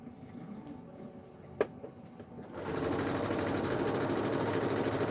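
A sewing machine stitches a jacket, starting after a quiet pause and then running as a steady, continuous mechanical whir close by until the end.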